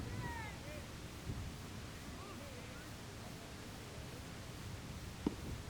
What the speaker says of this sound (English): Got a little gust of wind here.